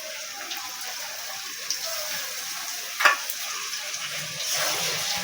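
Cumin paste sizzles in hot oil with ginger-garlic paste in a pan, a loud continuous fry with brief sharp crackles and stirring sounds, no voices over it.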